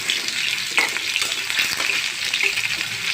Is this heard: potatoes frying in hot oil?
yes